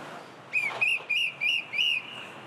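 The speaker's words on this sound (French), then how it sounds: "Vous avez beau siffler, parfois ça passe quand même." Five short, shrill police whistle blasts in quick succession, each with a rising-falling pitch, over a steady background hum of traffic on the Paris ring road.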